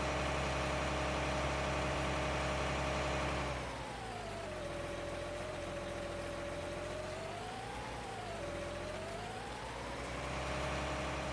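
Tractor engine idling in Farming Simulator 19, a steady low droning hum that dips slightly in pitch partway through and holds on alone without speech.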